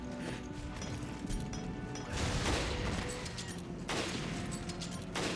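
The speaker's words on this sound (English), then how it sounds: "And then I throw a bunch of pulse grenades right here." Dense bursts of gunfire and pulse grenade blasts pile up in Resident Evil Revelations' Trench Raid mode, a continuous loud clatter with heavier swells of explosions.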